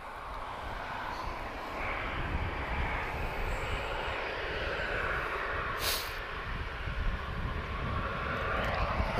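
EasyJet airliner at Lisbon Airport on a windy day, a faint, steady distant jet roar with broadband rumble throughout, no talking.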